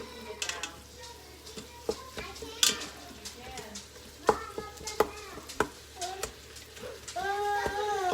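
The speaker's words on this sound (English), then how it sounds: "So I'm just getting all this meat brown." Ground meat browning in a soup pot, with a low sizzle underneath and repeated clinks and scrapes of a utensil stirring it, close by, while a voice talks over it.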